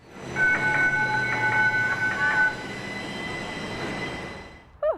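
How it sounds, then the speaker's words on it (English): A Sun Link streetcar running through Tucson rumbles past with ringing tonal wheel squeal and screeching, loud at first then fading to a steady hum, ending in a short sharp squeal. "the Sunlink streetcar is a welcome fixture in Tucson."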